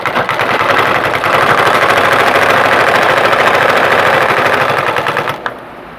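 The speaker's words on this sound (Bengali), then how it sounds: "দেখুন, আমরা সেলাই করতেছি।" A sewing machine stitches in fast, steady mechanical chatter for about five and a half seconds, loud and close, then stops abruptly. The stitching shows an upper-thread fault.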